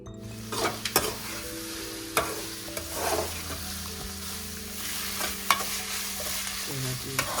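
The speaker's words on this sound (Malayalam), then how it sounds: "ചിക്കൻ ഫ്രൈ ചെയ്തിട്ടാണ് വെക്കാമെന്ന് വിചാരിക്കണേ." Chicken frying in a pan over steady, quiet hissing oil, with a spatula scraping and clattering against the pan at irregular intervals, close by and without any talking.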